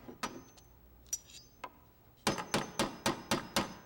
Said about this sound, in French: Est-ce que c'était le bruit de mon marteau?